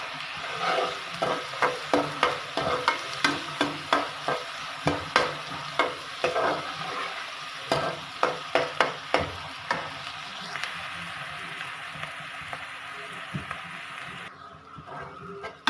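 A spatula stirs potato and eggplant sabji frying in a pan, scraping in a steady rhythm of repeated strokes over a constant close sizzle, then the stirring stops and only the frying continues.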